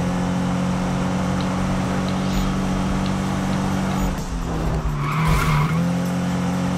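Car drifting in a Need for Speed street sprint race, with a steady engine drone underneath and a loud tire screech that swells briefly near the end.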